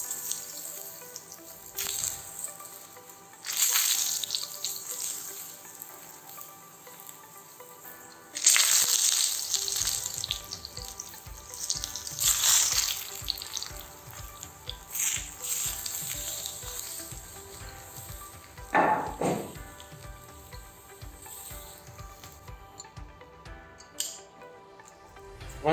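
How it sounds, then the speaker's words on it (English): Aubergine shallow-fries over medium heat in a pan, a steady close sizzle with bursts of crackling and spitting, plus occasional clinks and scrapes, and no voices. "To begin with, shallow fry the eggplant on a medium heat."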